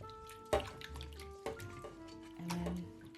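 Fresh asparagus spears washed gently by hand in a bowl of water with a little vinegar, giving soft splashes and drips at close range, with a few sharper sloshes and light kitchen clatter between them.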